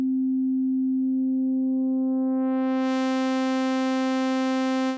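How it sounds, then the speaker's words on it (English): A synthesized sine tone with feedback modulating its own frequency. It begins as a pure steady hum, then grows brighter and buzzier as more overtones build up, becoming a sawtooth-like drone that holds loud and constant. "sine wave to modulate its own frequency, we can transform it into a sawtooth wave"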